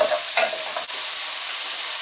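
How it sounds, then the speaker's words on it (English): Mushrooms fry in oil in a pan while being stirred, a loud, close, steady hiss of sizzling with a couple of brief scraping strokes. "Just keep on stirring"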